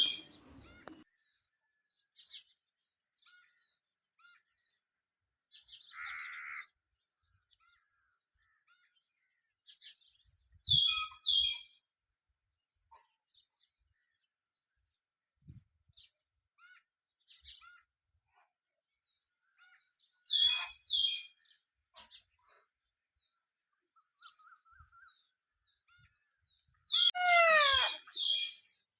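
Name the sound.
village morning birds, sparrows chirping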